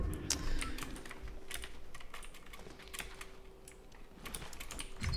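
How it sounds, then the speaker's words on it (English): Quiet, rapid clicks of a computer keyboard patter unevenly as someone types during a Fortnite gaming stream, with no speech over them. "Keon's just typing."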